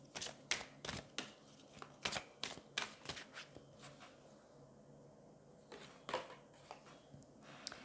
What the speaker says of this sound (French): on va prendre une carte des anges